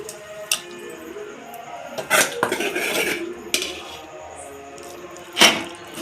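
Boiled chicken, seasoned with turmeric and salt, tipped into a cooking pot and mixed, giving a few sharp metallic clanks and scrapes of utensil on pot against a low background, with no talking.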